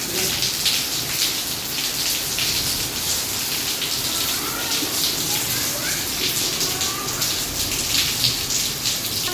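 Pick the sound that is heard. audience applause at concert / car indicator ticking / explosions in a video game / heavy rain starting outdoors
heavy rain starting outdoors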